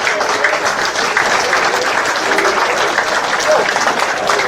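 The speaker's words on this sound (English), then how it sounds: "so let's give him a warm round of applause" An evening seminar audience applauds its guest speaker with dense, steady clapping that stays loud and even throughout, a whole room of hands together with faint crowd murmur underneath.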